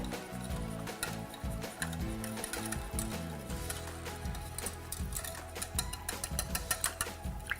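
Waffle batter ingredients, including a cracked egg, are whisked together in a bowl, producing rapid, irregular clicking and rattling strokes that are close but quiet, with a low hum underneath.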